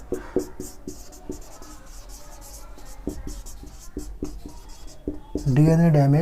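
Chalk or pen tapping and scratching on a board during a biology lecture, a string of short distinct strokes at an irregular pace, with a voice starting up near the end.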